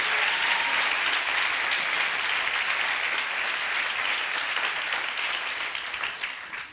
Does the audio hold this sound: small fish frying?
no